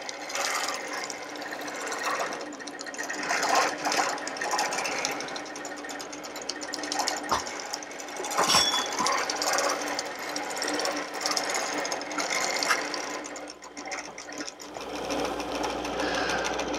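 A sewing machine stitches and bastes a quilt, its rapid needle chatter running in steady bursts with brief pauses and a couple of sharp clicks, fairly quiet and close, with no speech over it.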